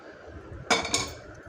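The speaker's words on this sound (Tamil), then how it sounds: "இதை இப்போ அந்த கொதிச்சிட்ருக்கிற இந்த கிரேவியில் ஆட் பண்ணுறேன்" Boiled chickpeas, cooked with only turmeric, tip into a pot of boiling gravy, giving two quick clattering bursts close by over a quiet kitchen background.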